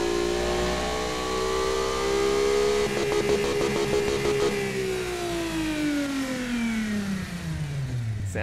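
A small-displacement, non-turbo V6 engine in the car-building game Automation climbs to high revs, holds a buzzing peak with a rapid stutter, then falls away as the revs drop, loud and close throughout.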